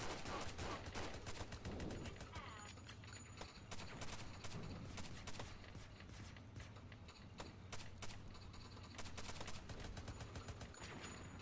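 Enemy gunfire in the VR shooter Crime Cracker, with dense, continuous rattling shots and clattering impacts throughout, alongside battle noise as a tank approaches.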